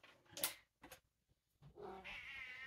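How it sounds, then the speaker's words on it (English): A house cat meows several times nearby, with short sharp calls followed by a longer drawn-out complaining meow, alone in a quiet room. "There's my cat."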